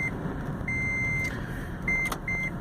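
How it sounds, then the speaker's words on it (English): A taxi's high electronic beep sounds in a few sustained tones over a steady engine rumble, with no talking. "And sorry about the beeping, but it does that sometimes."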